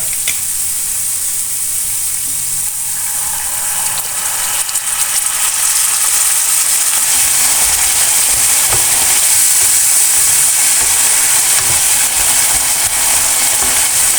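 Vinegar goes into a pan of roasted spice masala and sets off a loud, steady sizzle that swells into a continuous bright hiss and holds for many seconds without any talking.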